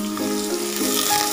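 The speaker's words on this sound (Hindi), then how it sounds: "अब हम इस ऑयल में प्याज को फ्राई कर लेंगे।" Onions, two medium ones, frying in a tablespoon of oil over a medium flame for chicken korma, giving a steady close sizzle with faint stirring scrapes throughout.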